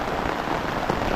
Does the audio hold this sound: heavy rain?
yes